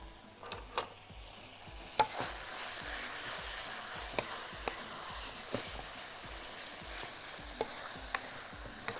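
Minced meat frying in a pan while being stirred, a soft continuous sizzle broken by regular faint scraping taps of the utensil against the pan, with no talking.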